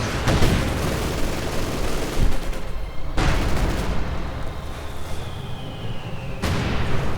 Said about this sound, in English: that was their own mortar which just killed 3 Panzer gunners